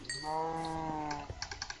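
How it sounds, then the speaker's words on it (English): A Minecraft cow gives one drawn-out, harmonic moo up close, followed by a few quick clicky taps. No one speaks. "cows just make a moo sound when you kill them"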